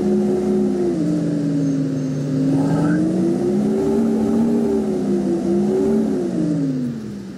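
Leyland Olympian 12-metre triaxle bus engine in the OMSI 2 simulator pulls away, a loud, continuous low drone that rises and falls in pitch as the bus accelerates, easing off at the end.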